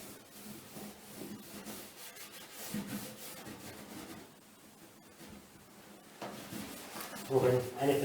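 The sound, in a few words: lint-free cloth rubbing wax onto wooden cabinet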